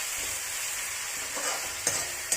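Finely chopped tomatoes fry with onion and green chili in a pan for a restaurant-style palak paneer base, giving a steady close sizzle with a couple of sharp clicks near the end.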